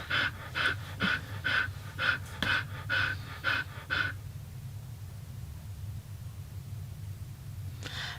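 A pet dog named Raiden panting heavily nearby, a quick rhythmic series of about nine breathy pants over four seconds, then a pause with faint background hum before one more pant at the end.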